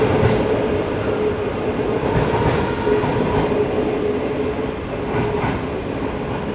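Steady rumble of the China Laos high speed train running, a constant broad roar of wheels and motion heard from inside the carriage, with faint rhythmic rail clatter and no talk.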